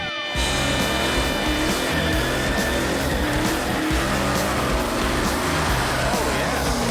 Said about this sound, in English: Put it on the rev limiter.